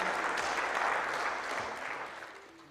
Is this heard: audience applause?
yes